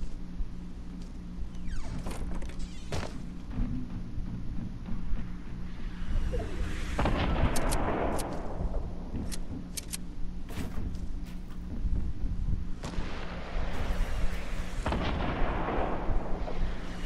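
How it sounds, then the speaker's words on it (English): Rocket explosions in a video game firefight: several heavy booming blasts and crackling bursts rise over a constant rumble of battle noise and scattered gunfire, some close and loud, others more distant. "Most rockets need to shut up."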